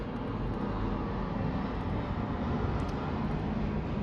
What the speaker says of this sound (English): And another plane. That's 3 in a row.